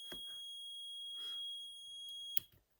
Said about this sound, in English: There, it's beeping again.